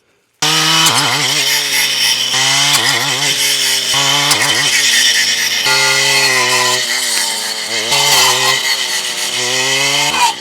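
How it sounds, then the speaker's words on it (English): A freshly grinder-sharpened chainsaw cuts through a 5-inch willow or blackberry branch, a loud, close engine snarl that rises and dips with throttle bursts across the cut after a brief quiet start. "Even when it's not even sharp, it can cut, 5-inch branch."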